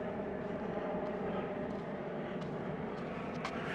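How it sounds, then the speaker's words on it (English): A helicopter drones steadily overhead along a coast near a beach, a broad rumbling engine noise holding at moderate distance throughout with no other sounds standing out. "There's a helicopter flying past there."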